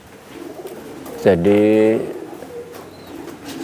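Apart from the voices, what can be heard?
pigeons cooing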